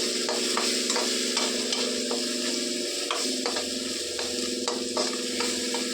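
Tomato and fresh coconut paste with ginger, garlic and turmeric fries in a pan, a constant close sizzle broken by repeated scraping stirs of a spoon against the metal.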